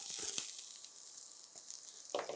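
Crushed garlic sizzling as it hits a pan of hot oil while cooking a taro root roast, a faint steady hiss with a few brief stirring scrapes and louder crackles near the end.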